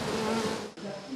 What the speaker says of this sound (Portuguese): A astrapeia rosa enfeita o quintal de beleza e serve de banquete para as abelhas.